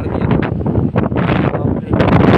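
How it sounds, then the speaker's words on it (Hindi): Strong cyclone wind in a village in Purulia, West Bengal, roaring and buffeting the microphone in loud, gusty surges with brief dips, close and continuous. "बहुत तेज हवा चल रहा है"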